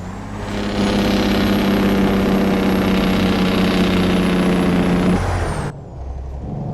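Freightliner Argosy truck in American Truck Simulator roaring through a loud, sustained engine brake for about five seconds, then cutting off with an air hiss, close and alone without talk.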